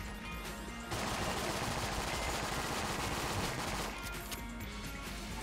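Sustained automatic gunfire from the Enter the Gungeon video game, a dense, loud stream of rapid shots that rattles on for about three seconds before easing back into quieter game noise.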